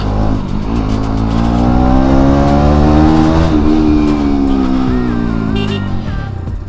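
A motorbike engine revs loud and close outside an elderly care home, holding a steady, strong drone whose pitch climbs and then eases off near the end.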